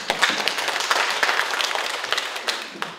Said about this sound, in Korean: 다시 한번 큰 박수 주십시오.